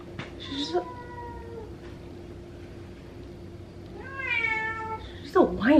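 A cat whines and meows in a kitchen, with a drawn-out cry early on and another rising meow near the end, fairly close, while a person talks over it.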